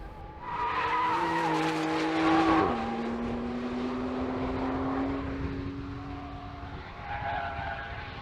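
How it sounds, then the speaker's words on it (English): A Porsche 911 Turbo engine revs hard, then its exhaust holds a steady, throaty drone as it drives past, loud and fairly close. "but does it have that 911 sound?"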